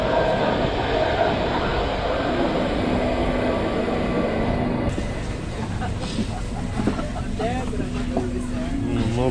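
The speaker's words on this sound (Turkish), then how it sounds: "Metro ile yaklaşık bir 10 dakika falan yol gidip sonra Römenci'ye varacağız sonunda" Steady rumbling and rattling of a metro train in motion in the Netherlands, with wheel and track noise and people talking in the background.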